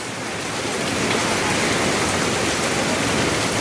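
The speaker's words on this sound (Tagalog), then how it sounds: "Tayuan kami lahat dahil lakas ng tulo ng ulan." Heavy rain pours onto and drips through a holed roof at a jetty port terminal, a dense, steady hiss of drops that stays loud and unbroken throughout.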